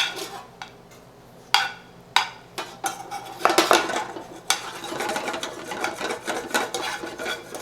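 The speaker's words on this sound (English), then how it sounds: "we're going to stir this butter in there, make sure it's nice and emulsified before we add more." Butter being stirred into a red wine reduction in a pan, with repeated scraping and clinking of a utensil against metal, loud sharp knocks early on, then steady busy stirring.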